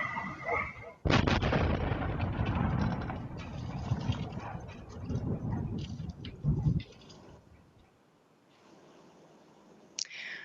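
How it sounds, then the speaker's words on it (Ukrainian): An explosion in Crimea: a sudden loud blast rings out, followed by several seconds of rumbling, crackling noise that fades to a quieter background, with a brief sharp bang near the end. "Давайте подивимось відео вибуху."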